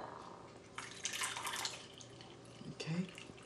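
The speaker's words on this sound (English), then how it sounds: "And then I discard all of this water." Hot water swished around inside a teapot and then poured out, producing a few seconds of splashing and trickling with brighter gushes in the middle and a second splash near the end.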